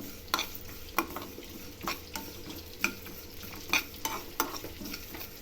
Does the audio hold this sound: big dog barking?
no